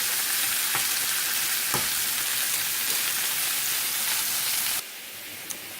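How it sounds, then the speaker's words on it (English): Noodles sizzle and crackle in a hot pan as they are stirred, a dense frying hiss with a few scraping knocks that drops abruptly to a quieter hiss near the end. "make sure to stir your noodles"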